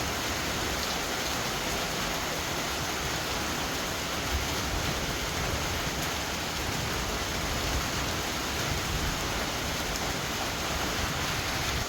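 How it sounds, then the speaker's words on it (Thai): Heavy rain pours down in a dense, unbroken hiss, steady and loud across the whole stretch with no voices over it. "ฝนตกแรงมากเลย"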